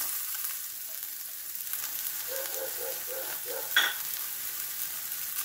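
Garlic and onion sizzle gently in oil in a pan, a quiet continuous frying hiss with a few faint taps and one brief clink near the end.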